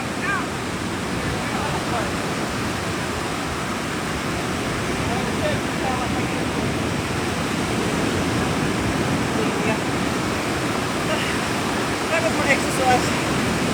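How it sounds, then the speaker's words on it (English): Ocean waves wash steadily onto a Seychelles beach in a breezy spot, a continuous broadband roar with faint voices now and then underneath. "we're sitting here just enjoying the waves"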